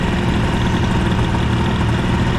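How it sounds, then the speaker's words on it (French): A scooter fitted with a Doppler high-rev exhaust and a Boost bottom end idles while warming up, giving a steady, loud, unbroken engine drone with vibration and no break in rhythm. "Comme ça, le moteur a le temps de chauffer un petit peu."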